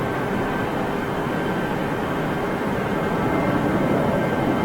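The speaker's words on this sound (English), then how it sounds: "Listen to those engines, or that engine, should I say," Aircraft engine being run up at London Heathrow Airport: a steady, loud roaring drone that holds constant throughout, with a faint whine riding on top and no voices.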